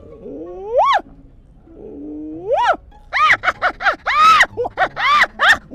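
A human voice imitates a pack of hyenas attacking a lion: two long rising whoops, then a burst of rapid, loud yelping cries in quick succession.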